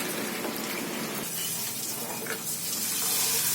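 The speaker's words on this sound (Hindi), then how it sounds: "2 कप के करीब डालेंगे हम इसमें पानी।" Water pours steadily and close up into a pan of potato kofta gravy, a continuous gushing, splashing flow that fills the whole stretch without talking.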